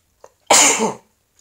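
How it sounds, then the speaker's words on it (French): A single loud, explosive sneeze bursts out after a brief faint intake of breath, then quickly fades to silence. "je vais encore éternuer une fois"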